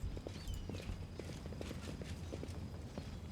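Horse hooves clip-clop in the Pathfinder: Wrath of the Righteous video game, a quick steady run of close hoof beats over soft ambient game sound, with no talking.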